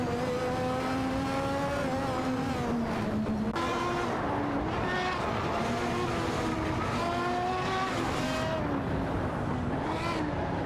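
McLaren MP4/4 Formula One cars race in a video game, engines screaming steadily at high revs with gear shifts and rising pitch sweeps, loud and continuous, no talk.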